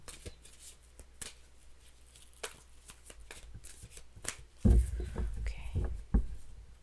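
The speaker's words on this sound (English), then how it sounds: "Shuffle 2 more times." Tarot cards shuffled by hand in repeated riffling bursts, soft and close at first, then louder and denser handling with a sharp final snap, with no talking.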